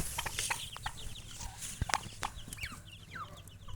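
High, thin cheeping of chicks repeats rapidly over soft clucking and farmyard rustle, fairly close and continuous, with turkey poults nearby.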